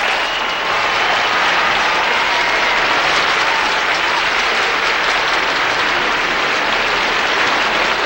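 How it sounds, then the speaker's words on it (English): Sustained applause from a television studio audience at a celebrity roast, a dense, loud, unbroken roar of clapping that holds steady throughout with no talk. "Go ahead if you want to applaud, you know."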